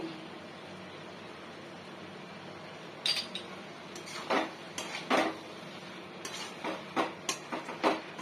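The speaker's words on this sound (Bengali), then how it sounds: "গরম মশলা দিয়ে একটু এভাবে নেড়ে নিতে হবে" A spoon scrapes and clatters against a pan as garam masala is stirred into a Bengali banana flower curry, with several sharp knocks after a quiet start and no talk.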